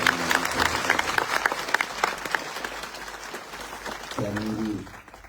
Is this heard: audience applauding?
yes